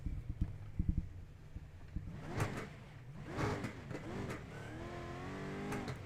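A stock car engine in the iRacing racing game, with a few mechanical clicks followed by repeated engine revs that rise and fall, then a climbing, sustained acceleration, loud and close with no talking.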